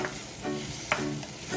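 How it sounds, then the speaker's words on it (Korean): Cherry tomatoes stir-fry with onion and garlic in hot oil, giving a steady close sizzle broken by a few scraping stirs of the pan. "오일에 양파와 마늘의 향이 올라오면 방울토마토를 넣어 볶아줍니다."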